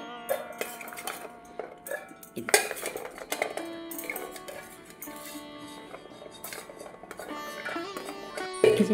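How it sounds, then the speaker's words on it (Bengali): Coconut pieces tumble into a steel mixer grinder jar with a run of close clinks and clatters, the jar knocking and rattling in uneven bursts over several seconds. "এবারে মিক্সির বাটির মধ্যে আমি দিয়ে দিলাম নারকেলের টুকরোগুলোকে।"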